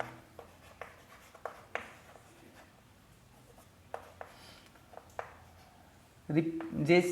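Pen writing on paper during a physics lesson, a few faint scattered scratches and taps spread through quiet room tone, ending with a louder burst of handling noise.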